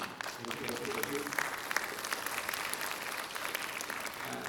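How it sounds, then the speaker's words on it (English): Steady applause from an audience fills the whole stretch, a dense even patter of many hands clapping together without letting up. "Round of applause, please."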